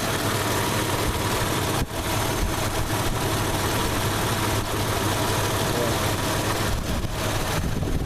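A 1997 Isuzu Rodeo's 3.2 liter dual overhead cam engine idles close up with a steady, even hum and faint ticking, broken by one brief dip in level early on and a few light knocks later.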